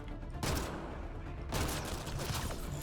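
Dense, rapid gunfire from the Mass Effect Andromeda video game, a sustained burst of shots with bursts of impacts, fairly quiet and with no talk.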